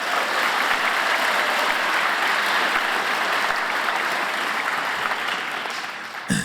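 An audience at Caltech's 2016 convocation gives steady, full applause that tapers slightly toward the end before a brief final rustle.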